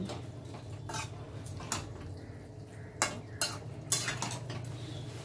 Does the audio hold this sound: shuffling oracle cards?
no